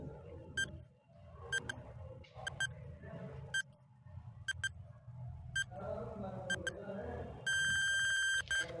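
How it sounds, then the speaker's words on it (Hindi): A quiz countdown timer ticks out ten seconds with sharp, evenly spaced beeps over a murmuring background, ending in a longer continuous buzzer tone. "10 सेकंड का टाइमर आपके सामने लग चुका है"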